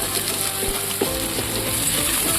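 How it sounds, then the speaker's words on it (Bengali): Chopped onion and garlic frying in a pan, giving a steady close crackling sizzle with small clicks and scrapes throughout. "তাকে ভালো করে আমরা লাগিয়ে ভেজে নেবো।"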